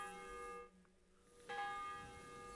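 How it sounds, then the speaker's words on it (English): Church bells toll loudly in the video game Kingdom Come: Deliverance II, their sustained ringing tones filling the scene, briefly dipping before a strong fresh strike and continuing resonance. "Bells are super loud."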